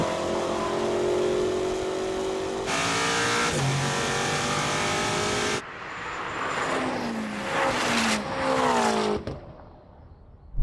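A 1000 hp BMW M5 revs hard at a drag race launch with a loud, rising engine roar, then shifts through the gears in a series of rising pitch sweeps.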